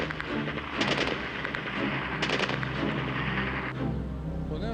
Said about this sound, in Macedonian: тоа веројатно во кале горе се пука